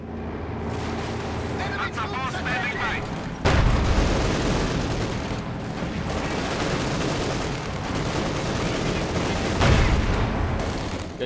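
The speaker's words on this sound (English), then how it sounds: "considering there's a heavy mortar ranging about" Heavy mortar fire in a Company of Heroes 2 match, loud booming blasts and gunfire rumbling continuously throughout.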